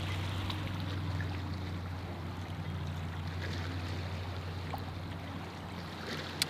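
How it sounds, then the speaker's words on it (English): A noisy boat engine on a lake near Queenstown Gardens, a low steady droning hum carried across open water at a moderate distance, constant under faint outdoor ambience with no talking. "that boat is noisy"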